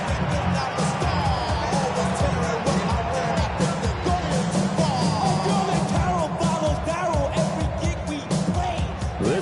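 Football stadium crowd at a Saints vs Packers game roars steadily and loudly throughout, a dense continuous wash of cheering and yelling with no pauses.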